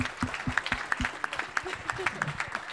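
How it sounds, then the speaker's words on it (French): A conference audience claps in a steady, moderately loud patter of overlapping hand claps, with a few voices mixed in. "Merci Axel, on peut l'applaudir."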